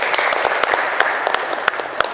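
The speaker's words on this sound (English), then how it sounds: "Please a round of applause for him again." An audience at a formal signing ceremony claps steadily, a dense, fairly close patter of hands with sharper individual claps standing out, and no talk over it.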